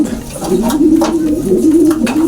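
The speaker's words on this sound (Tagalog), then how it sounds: "Dito ipapakita ko na yung mga ibon ko sa inyo mga boss." Pigeons kept by a bird keeper coo close up in a continuous, rolling low murmur with overlapping throaty calls, loud and without any talking.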